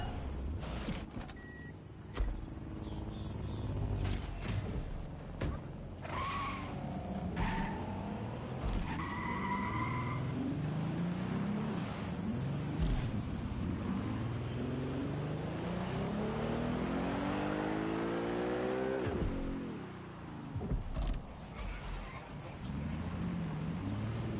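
A car in the video game Watch Dogs Legion on PS4 drives fast with a constant engine roar and long, sweeping tire skids and squeals, loud and continuous throughout.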